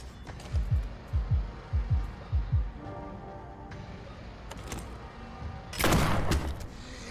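Shotgun blasts in the survival horror game Tormented Souls: a run of about five heavy booming shots with short gaps in the first two and a half seconds, followed by quieter rumbling and a sharp metallic clatter near the end.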